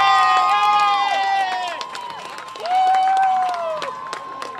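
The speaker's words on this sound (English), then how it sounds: "That was a cheer for the scoremaster on the other side of the field." A crowd in the stands at a varsity high school football game lets out a loud sarcastic cheer for the scorekeeper on the far side of the field, with overlapping shouts and whistles rising, fading, then swelling again.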